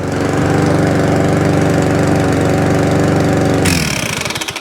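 A small petrol lawnmower engine runs steadily and loud, then throttles down near the end, its putter slowing into uneven chugs.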